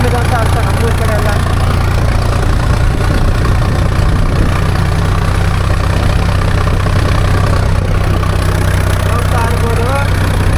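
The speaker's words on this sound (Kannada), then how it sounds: "1100 RPM ಅಲ್ಲಿ ನಡೀತಾ ಇರೋ ಗಾಡಿ" A vehicle engine running at about 1100 RPM on a farm, a steady, loud, close low rumble that holds evenly for the whole stretch without revving.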